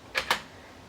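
Two quick, crisp keystrokes on a Sinclair QL computer keyboard, close and moderately loud, followed by quiet room hiss.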